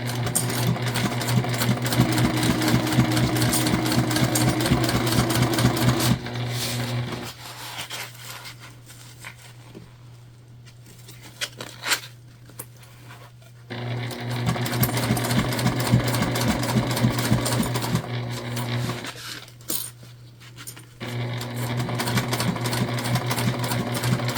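A sewing machine stitches the gusset of a fabric bag in loud, rapid bursts of rhythmic clatter, separated by quieter pauses where a low hum remains, close-up with no talking.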